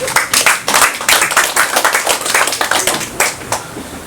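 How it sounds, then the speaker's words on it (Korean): Lecture-hall audience at a special talk at a Busan human resources development institute breaks into applause, dense overlapping claps swelling and dipping steadily throughout, fairly close and loud with no talk over it. "우리 박수 한번 쳐줍시다"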